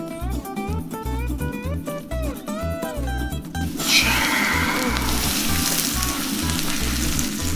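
Battered cabbage pancake lands in hot oil after a stretch of background music, then fries with a loud, steady, crackling sizzle close by, with no talk.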